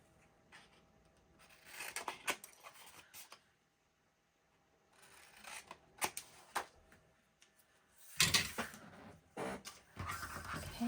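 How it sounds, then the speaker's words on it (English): Scissors cut off the corners of a book-in-a-box easel cover in short bursts of crisp snipping and paper rustle, separated by quiet pauses, all heard close up and faint with no voices. "So we're going to cut off those corners."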